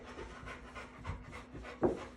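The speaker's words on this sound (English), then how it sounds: "It's one of the most dangerous dogs I've ever seen in my life." A dog panting in quick, rhythmic breaths, close and fairly soft, ending with a sharper louder puff.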